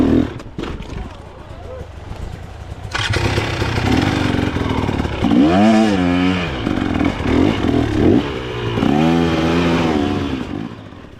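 An off-road motorcycle rides through varied terrain of ravines and trails, its engine revving and surging in repeated bursts close to the microphone.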